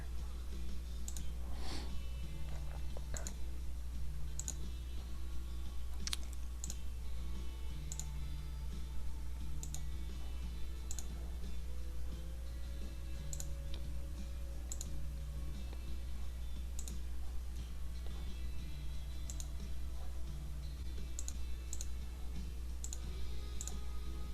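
A computer mouse clicking on a desktop, with sharp, close, isolated clicks scattered at irregular intervals over a steady low electrical hum and no talk.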